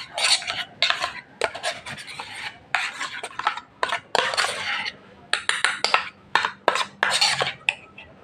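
Spoon stirring a thick mixture of hair conditioner and vinegar in a small bowl, producing close, repeated scraping and clinking strokes in an uneven rhythm with short pauses between bursts.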